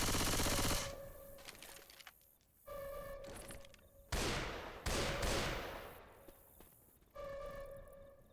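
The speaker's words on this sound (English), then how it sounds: "Going with the machine gun." Machine gun fire in the video game Left 4 Dead 2 comes in several loud sustained bursts separated by short gaps and ringing game tones, with no talk.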